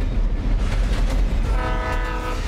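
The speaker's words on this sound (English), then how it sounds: "That's the train." A train in Alan Wake Remastered rumbling past loudly with steady heavy rolling noise, and a sustained horn-like tone emerging toward the end, no voices.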